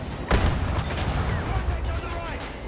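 A sharp burst opens a rattling spell of turret gunfire in Battlefield 2042, fairly close, over a steady din of battlefield noise.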